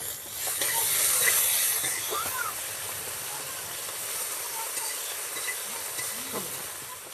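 Ginger, garlic and onion paste dropped into hot oil gives a steady, broad hissing sizzle that is loudest at first, then settles to an even frying hiss.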